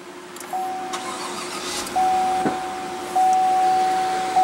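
A 2016 Chevrolet Tahoe Z71 with a 5.3-liter V8 starts by push button and settles into a steady, close idle rumble, with thin, sustained chime-like tones running over the engine noise.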